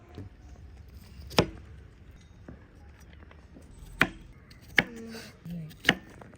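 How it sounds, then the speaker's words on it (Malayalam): Washed rose apples being cut into pieces with a knife, giving a few sharp, separate chopping knocks on a board spaced a second or more apart, fairly close and otherwise quiet. "ചാമ്പയ്ക്കൊക്കെ നമ്മളിവിടെ വൃത്തിയായിട്ട് കഴുകി എടുത്തിട്ടുണ്ട് നമുക്കിതൊന്ന് പീസസ് ആയിട്ട് കട്ട് ചെയ്തെടുക്കാം"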